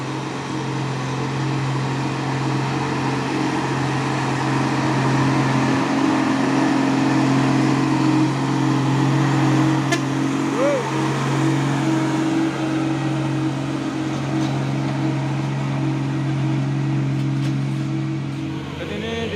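A 4x2 truck engine labors slowly up a steep hill at Bukit Kodok in a steady, droning low rumble that stays constant and fairly loud with no breaks.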